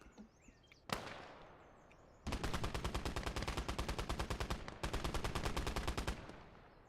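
Gunfire in the World War II strategy game Gates of Hell: Ostfront, Finnish front. One sharp shot is followed by long, loud, rapid machine-gun bursts with an even rattling rhythm and a brief gap between them.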